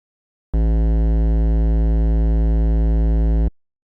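A sustained low sine tone distorted with FL Studio's Fruity Fast Distortion, rich in harmonics and buzzy, plays alone at steady loudness for about three seconds before cutting off abruptly.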